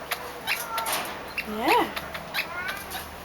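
Pet cats meowing indoors, a clear rising-and-falling meow in the middle with a few softer vocal bits around it, heard near and moderately loud beside brief human speech.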